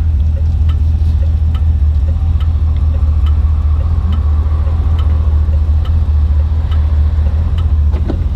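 A 1959 Edsel Ranger's engine runs steadily while driving, a loud, constant low rumble that fills the cabin with a faint ticking texture on top and no pauses.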